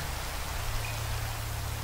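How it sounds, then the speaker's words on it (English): Rain falling in Minecraft, a soft, steady patter and hiss at low volume with a faint low hum running underneath. "Oh, it rains in Minecraft."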